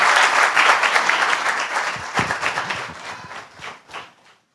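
A church congregation at a Sunday service in Hindi claps in welcome for newcomers, a burst of dense applause that thins into scattered claps and dies away over a few seconds.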